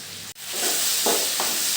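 Ingredients for a spicy chilli chutney sautéing in a pan, a brief continuous close sizzle with a couple of soft stirring scrapes.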